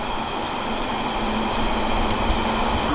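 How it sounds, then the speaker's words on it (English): Steady rumble of a train passing close by in East London, a broad continuous roar with a low hum, loud and unbroken throughout with no talk. "we got trains, baby."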